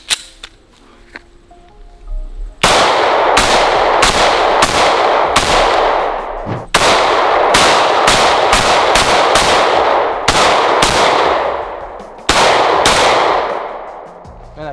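Walther PDP F Series compact pistol fired at a range, a dozen or so sharp, loud, close gunshots in quick uneven bursts with short pauses between strings.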